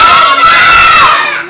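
A crowd of children shouting loudly together at a seventh birthday party, a brief, close, unified yell that rises and then fades out.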